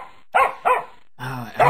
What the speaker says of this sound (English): Shut the dog up.